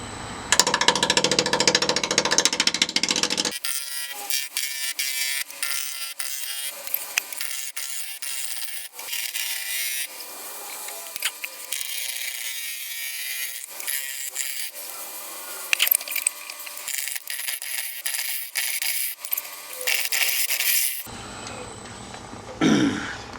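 A wood lathe at 830 RPM turns a natural-edge walnut bowl while a 5/8 inch bowl gouge cuts. Scraping, rubbing cuts come in irregular bursts with sharp ticks, and a brief louder passage opens and closes the clip.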